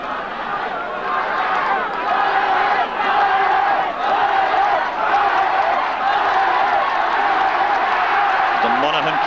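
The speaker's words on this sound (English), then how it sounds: "The Monaghan crowd taking up the chant." Large Monaghan supporters' crowd chanting at the 1979 Ulster Gaelic football final against Donegal, a loud continuous roar with rhythmic swells, heard from a distance as a broad stadium wash, with a commentator's voice over it.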